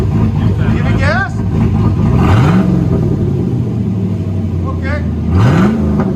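A cammed Chevrolet Silverado engine breathing through a test muffler rumbles loudly at a lumpy idle and rises in two quick revs before settling back. Someone briefly speaks nearby.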